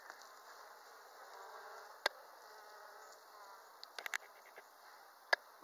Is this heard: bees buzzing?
yes